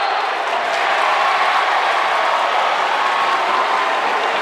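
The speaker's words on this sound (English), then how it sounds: "New Oxford has a deep crowd in here as well" Crowd at a boys' YAIAA championship basketball game between York High and New Oxford in a gym, cheering and applauding in a loud, continuous roar that fills the whole stretch.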